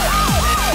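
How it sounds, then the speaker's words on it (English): A loud wailing emergency siren, close and continuous, its pitch sweeping up and down in rapid repeated cycles with no voices over it. "A siren?"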